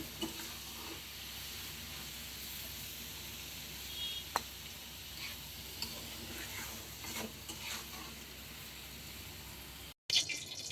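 Snake gourd bhaji frying in a pan, with a steady soft sizzle, occasional stirring scrapes and faint clicks throughout, ending with a brief cut.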